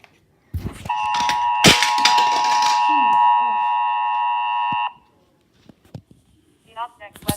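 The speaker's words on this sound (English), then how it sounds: "EAS alert." An Emergency Alert System (EAS) attention tone sounds as a loud, steady dual-pitch electronic beep lasting about four seconds, preceded by clatter and followed by quiet.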